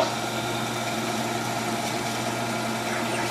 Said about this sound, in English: We're drilling, go ahead and show them how you're drilling that down.